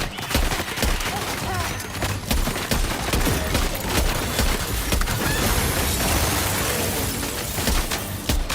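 Gunfire in Death Stranding 2 rattles on continuously as a dense, loud fusillade of overlapping shots and impacts, with a faint voice mixed in.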